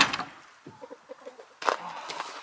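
Chickens cluck in a short run of soft, close clucks, between brief bursts of louder background noise.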